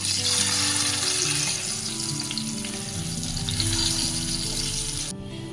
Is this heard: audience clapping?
no